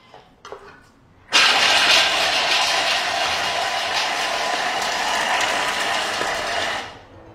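A Thermomix chops vegetables at speed 5, starting abruptly after a few faint clicks into a loud, steady whirring roar. The roar holds for about five seconds, then winds down.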